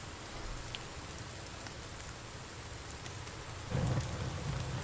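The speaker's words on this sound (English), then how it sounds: "Dude, this rain needs to go away." Steady rain hisses in The Forest video game, a continuous soft patter that swells louder near the end with a low rumble, and no voices.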